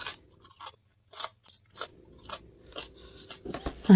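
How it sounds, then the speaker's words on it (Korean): Crunchy chewing of seasoned pickled radish jangaji dressed with sesame oil, heard as several separate close-up bites and crunches in an otherwise quiet room, ending in a louder burst. "정말 쫀득쫀득 오독오독 씹는 소리까지 맛있는데요"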